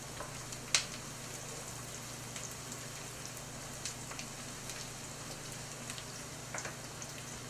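Chopped onions, three medium ones, sauteing in olive oil and butter in a pan give a steady, faint sizzle with occasional small pops and crackles, with no talking.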